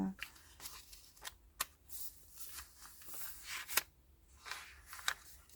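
Crinkly paper handled while journaling in a planner, with soft rustles and several sharp crackles scattered irregularly, close and quiet, no voice.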